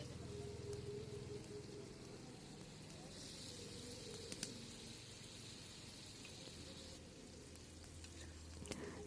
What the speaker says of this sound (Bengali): আর এই তো এই পাশে মাটির চুলায় আরেকটা কড়াইতে আমি সেই পাখিটা রান্না করতেছিলাম